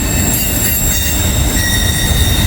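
A freight train rolls steadily past up close, its wheels squealing in long high tones over a loud, continuous rumble as the distributed power locomotives work hard.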